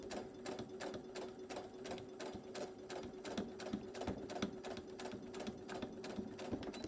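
A sewing machine steadily back-stitching shirt fabric at a tight arm band, its rapid, even needle strokes running close and continuous over a low motor hum.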